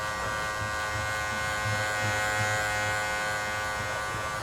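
Electric hair clippers buzz steadily and close up while blending a haircut, a constant mid-pitched motor hum with no voices over it.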